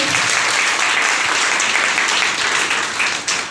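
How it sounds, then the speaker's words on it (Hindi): Loud, sustained applause from a crowd at a business meeting, dense and steady throughout, fading slightly at the end. "एक जोरदार ताली बजाइए"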